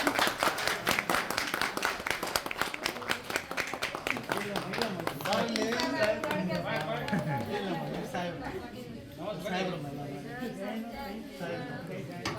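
A crowd claps in a quick, dense patter of sharp taps that fades out midway, followed by general chatter and talking from several voices.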